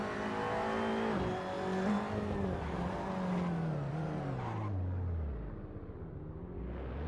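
Touring race cars in a TCR Australia sim racing game at Macau roar together under heavy braking and downshifts into the hairpin, engine pitch sliding down, loud and continuous without speech.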